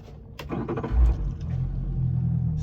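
A small fishing boat's engine cranks briefly and catches on the first turn of the key, then settles into a steady, close idle rumble with no talk.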